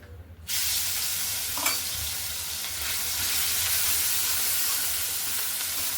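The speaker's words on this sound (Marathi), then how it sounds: "आणि ही गवार जी आपण घेतली थोडा वेळ ह्याच्यामध्ये परतून घ्यायचं आपण" Cluster beans with turmeric and ground spice paste sautéing in hot oil in a wok, a steady loud sizzle that starts abruptly and continues evenly, with a brief clink of stirring partway through.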